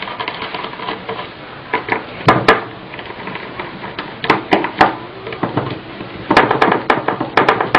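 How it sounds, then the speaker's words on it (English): Small screws being loosened from an AUG airsoft gearbox, heard as scattered clicks, taps and scrapes of metal tools on the casing, close up and fairly loud, with irregular bursts and no talking. "So unscrew the screws."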